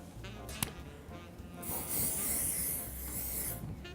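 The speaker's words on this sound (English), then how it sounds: "So now that we have that, I'm going to spray it one more time." Hairspray is sprayed onto hair while an updo is styled in a salon. The spray comes as a steady hiss of about two seconds, preceded by a brief tap and light handling noise.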